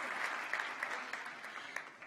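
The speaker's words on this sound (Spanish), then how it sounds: "Aleluya, aplauso al rey, hombre" Applause rises from a church congregation during a Sunday communion service, a soft, even patter of many hands clapping, with a few sharper claps standing out.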